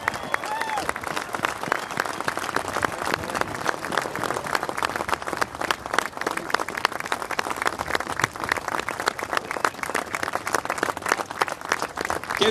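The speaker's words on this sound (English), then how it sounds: "Give Pat a big round of applause" A crowd applauds goalkeeper Pat Jennings at a statue unveiling in his home city, a sustained outdoor clapping wash with a speaker's voice audible over it at times.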